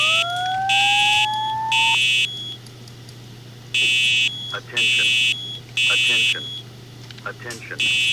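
A fire alarm horn from a fire alarm control panel in the Roblox video game sounds in repeated loud electronic blasts with short gaps, while a voice talks between them.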